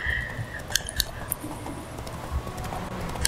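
Horse hooves clip-clop in the video game The Witcher 3, a steady close rhythm of hoofbeats with light jingling of tack over a low rumble.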